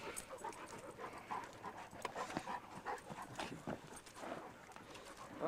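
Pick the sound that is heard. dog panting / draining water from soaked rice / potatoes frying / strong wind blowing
dog panting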